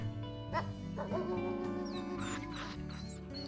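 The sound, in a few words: wolf barking in the video game WolfQuest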